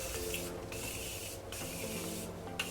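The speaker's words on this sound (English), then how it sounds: "I'm spritzing my face using a little bit of the Morphe Continuous Setting Mist." Morphe Continuous Setting Mist sprays onto a face in three short, close bursts of soft hiss, spaced evenly apart.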